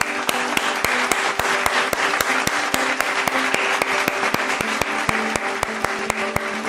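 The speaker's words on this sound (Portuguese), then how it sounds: "salve de palmas pro meu mano Jerry" A round of clapping rings out as a steady, dense patter with sharp regular beats running throughout.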